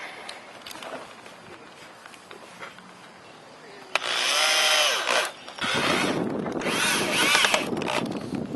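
A power drill drives short screws into wooden formwork at a Cincinnati house build. Two loud whirring runs of the motor rise in pitch and then stop, with quieter handling noise between them and no speech.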